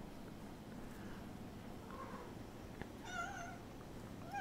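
A faint cat meows a few times, short wavering calls against quiet room noise, the clearest one near the end.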